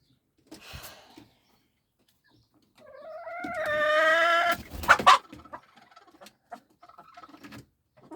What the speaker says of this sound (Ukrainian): Це маран і абориген, поміс курочка.